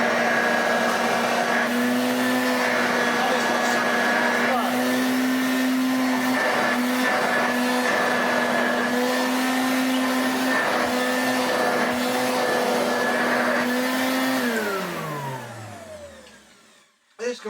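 A vintage 1980s Hoover Junior U1104 upright vacuum runs without its belt, a loud, close, steady motor whine that holds for about fourteen seconds, then falls in pitch as it is switched off and winds down to silence, ending in a click.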